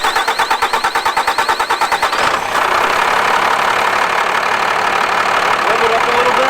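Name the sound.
First Gen Cummins truck engine idling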